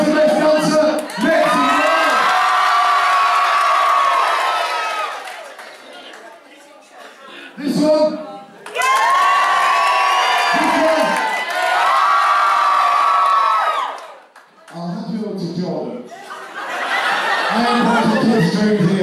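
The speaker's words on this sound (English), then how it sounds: "If you think this one was the best dancer, make some noise!" Boxing show audience screaming and cheering for a dance contest in loud, shrill surges, with a brief lull between two long bursts and a shorter third, mixed with whoops and shouting voices.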